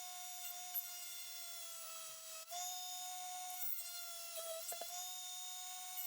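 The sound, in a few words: sanding a wooden fishing lure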